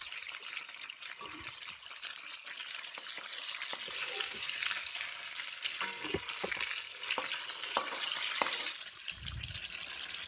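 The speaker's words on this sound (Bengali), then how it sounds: "মাথাটা আমি আরেকটু সময় ধরে ভেজে নিচ্ছি।" A fish head frying in a pan for masala fish curry gives off a steady, close oil sizzle. Intermittent crackles and a few utensil knocks punctuate it, and there is a dull thud near the end.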